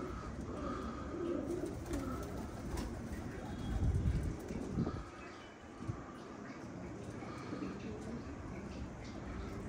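Red Mukhalif pigeons coo in soft, repeated low calls over a steady background hum, with a brief louder rumble partway through.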